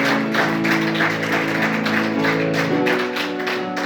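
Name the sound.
church congregation applause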